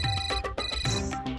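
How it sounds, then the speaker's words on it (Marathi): A mobile phone ringtone rings indoors, a bright electronic melody of repeated tonal notes played clearly and fairly close with no speech. "तुमचा फोन वाजतोय"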